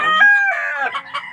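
A farmyard rooster crows close by while being fed, giving one loud, drawn-out cock-a-doodle-doo that ends in a few rougher clucking notes.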